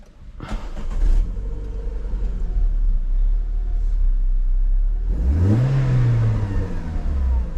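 A 2011 Renault Clio 3 RS with a 2.0-litre 203 hp engine cranks and fires into a loud, close idle rumble, then blips up in a rising rev before settling back.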